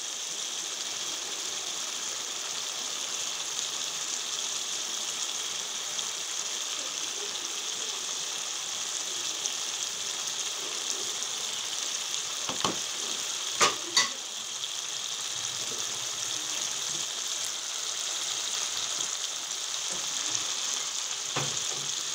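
Eggs sizzle in a pan of green peas curry, a steady, even frying hiss running throughout, broken near the middle by a couple of brief sharp knocks, with no voices.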